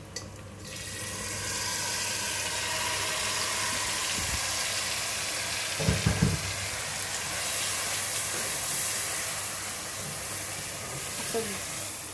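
Shahi paneer gravy sizzles and hisses steadily in a hot pan, a broad continuous frying noise with a few brief knocks of a spoon or pan partway through.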